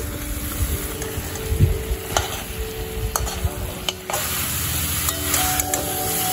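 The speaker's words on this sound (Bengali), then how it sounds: "ভালো করে নেড়ে চেড়ে বাটা মশলাটা আমি সুন্দরভাবে মিশিয়ে দিচ্ছি।" Ground spice paste being stirred into a dry drumstick and potato curry in a pan, with soft scraping strokes over a low continuous sizzle, close and steady.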